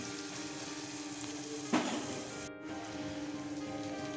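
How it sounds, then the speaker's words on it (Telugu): Onions and green chilies fry in a pan for palak chicken, a quiet steady sizzle with one sharper burst of crackling partway through. "ఉల్లిపాయ, పచ్చిమిర్చి వేగింది"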